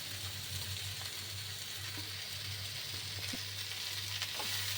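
Sliced onion with snake gourd frying in a pan, a steady close sizzle with faint stirring clicks and a low hum underneath, no talking.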